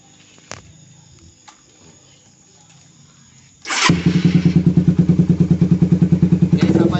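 Suzuki Satria FU motorcycle engine catching after a few quiet thumps, then settling into a loud, close, rapid rhythmic idle putter that continues steadily to the end.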